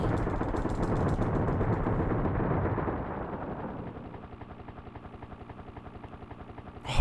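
Rapid gunfire from the video game Desert Strike: Return to the Gulf, dense overlapping bursts that fill the first few seconds loudly, then thin into a steady, quieter stuttering rattle.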